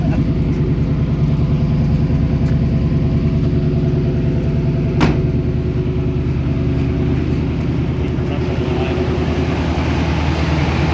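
A 1971 Chevy Cheyenne C10 pickup with a 350 V8, warmed up after a hard cold winter start, idles steadily and close by with a deep, even rumble, all cylinders firing, and one brief sharp click partway through.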